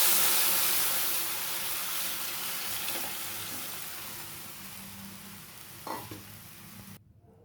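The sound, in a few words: second coconut milk and tamarind water poured into tempering, sizzling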